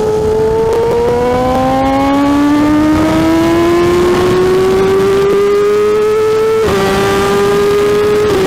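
A car engine on the road, loud and close, holding a steady, gradually rising hum with no talking over it.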